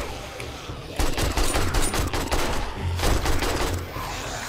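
AK rifle fire in the 7 Days to Die console version, with rapid full-auto bursts that come close and loud in several runs, the last one ending in a taper.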